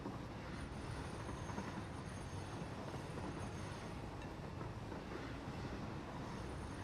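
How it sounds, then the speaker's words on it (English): A video game train ride rumbles along steadily, a dense continuous rolling roar of rail noise with faint squealing hints, held at an even, quiet level throughout with no voices. "We're gonna ride the train."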